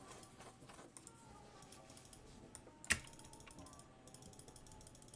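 Computer keyboard typing during a League of Legends game, a faint, steady patter of soft key clicks with one sharper tap midway and no talking.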